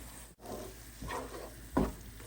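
Spices with ginger-garlic paste fry in a pan for a mustard fish curry, the sizzle broken by a few short scraping bursts as the mixture is stirred, close and fairly quiet.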